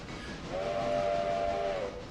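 A steam locomotive whistle in the railroad simulation game Railroader sounds once, a single steady blast of about a second and a half over a low rumbling background.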